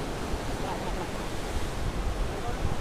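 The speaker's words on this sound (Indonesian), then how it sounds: "Bahaya iki ombak iki kok." Ocean waves wash against the shore of Prigi Bay, a steady broadband rush of surf mixed with wind noise on the microphone, continuous and fairly loud throughout.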